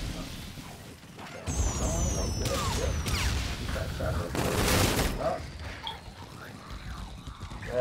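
Fireworks go off in the Call of Duty: Infinite Warfare zombie mode, a loud, rapid crackling barrage with bursts, whistles and booms, while players talk over the commotion.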